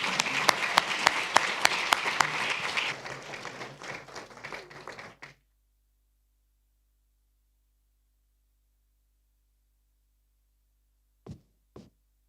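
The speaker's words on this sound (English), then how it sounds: "A big round of applause for our panelists and for our moderator, Alexandra." Audience applause for conference panelists and their moderator in a large hall, a dense burst of clapping that fades over about five seconds, then silence with two faint knocks near the end.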